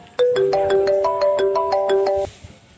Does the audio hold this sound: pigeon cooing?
no